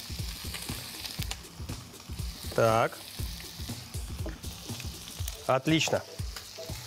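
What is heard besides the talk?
beef tongue frying in a pan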